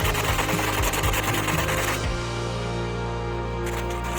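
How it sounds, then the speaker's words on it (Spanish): A quad's brake lever is sanded flat by hand, giving a dense, continuous rasping scrape with quick rhythmic strokes at first, then a steadier grinding texture, close and loud with no talking. "Voy a alisar la superficie de la maneta buscando que las dos caras queden paralelas."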